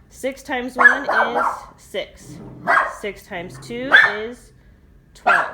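A dog barks and yips indoors in repeated sharp bursts, loud and close, cutting over a person talking steadily through the whole stretch.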